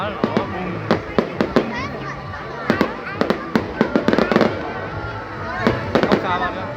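Fireworks bursting at a public display in Hai Duong, Vietnam, with sharp explosive cracks and booms arriving in quick irregular clusters over a steady crowd murmur, while nearby people talk and someone speaks.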